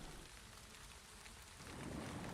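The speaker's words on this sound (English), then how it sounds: "But it is raining here, so that is bad, of course" Steady rain falls in the video game Valheim, a dense broadband hiss of drops on surfaces that holds constant and swells slightly louder near the end, with no voices.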